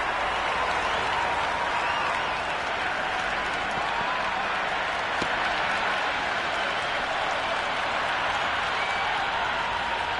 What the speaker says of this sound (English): the crowd have joined the party. It's pretty noisy at the ground.